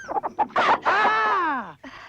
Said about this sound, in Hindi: मुर्गी की आवाज